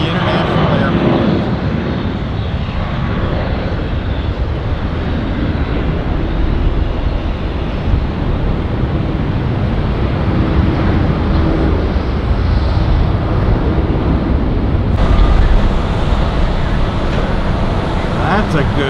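Airliner departing Tampa International Airport for JFK, a loud, steady jet engine roar heard from nearby on the ground that holds for the whole span with broadband rumble, swelling slightly near the end.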